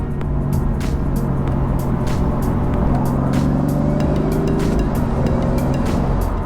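A steady, loud BMW M4 engine drone with a subdued, muffled exhaust note from the closed exhaust valve, continuous throughout with no voices.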